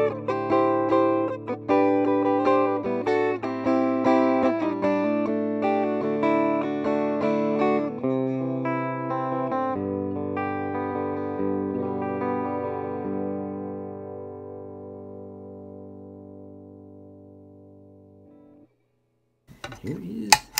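Guitar played through a Mega Chorus vibrato pedal with a hint of reverb into a Savage amp: a series of picked notes and chords ringing out, then a long sustained chord fading slowly to silence, with a brief noise at the end.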